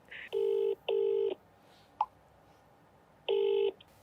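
Phone dialing a call to her son, three clear touch-tone beeps with one brief click between them, alone in a quiet room.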